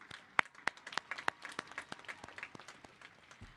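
Scattered applause for teachers at a 2021 high school graduation, with several loud individual claps up front merging into a lighter, distant patter of a crowd.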